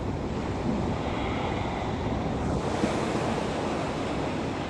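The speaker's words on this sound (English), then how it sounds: "Feel the rhythm, the ebb and flow of the ocean" Ocean waves wash onto the shore in Maui, Hawaii, a constant roaring surf mixed with gusty wind buffeting the microphone, loud and unbroken.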